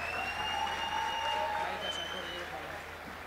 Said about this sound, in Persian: یه دست قشنگ براش بزنیم.